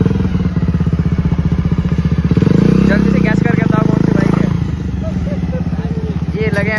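A modified Bajaj Avenger motorcycle engine runs loud and close, revving with a rising, throbbing pulse as if building up for a burnout, while people talk over it.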